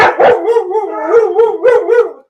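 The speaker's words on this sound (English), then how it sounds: "My dogs are playing." Dogs barking while playing indoors, a close, loud run of several quick barks and yips with a howling, whining edge, bunched tightly over about two seconds.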